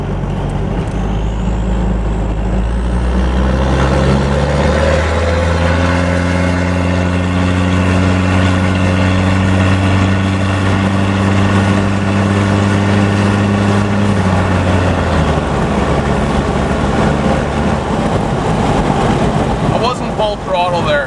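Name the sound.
Toyota Hilux Surf SSR-X 3.0 diesel engine at full throttle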